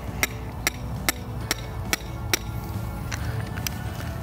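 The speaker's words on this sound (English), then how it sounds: "hammer a stake in" A hammer drives a wooden stake into the ground at a building site, marking a perpendicular layout line. There are about eight sharp, evenly spaced strikes close by, over a low outdoor rumble.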